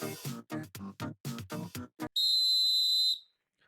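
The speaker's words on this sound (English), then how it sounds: "Don't move when the coach blows the whistle." Sharp video-game coach's whistle, a single sustained shrill blast of about a second that follows a rapid series of short choppy game sounds and cuts off cleanly.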